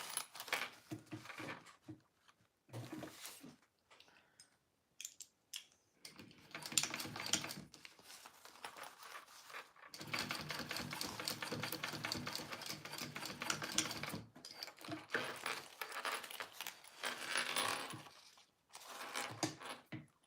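A sewing machine top-stitches a Joey Pouch, running in rapid, rattling bursts of varying length separated by short pauses, close and fairly quiet.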